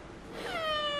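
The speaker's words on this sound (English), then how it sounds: "Do you guys know why she meows a lot?" A single rising meow from a female house cat, close and fairly loud, swelling in strength as it goes, with no voices over it.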